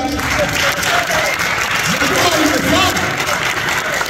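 A church congregation bursts into loud, sustained applause, a dense wash of clapping that holds steady throughout with a voice faintly audible beneath it.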